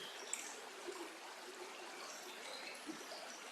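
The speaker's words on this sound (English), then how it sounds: "the sound of the water" Gently flowing water trickles and babbles in a stream, a soft, steady wash with faint splashes and drips throughout.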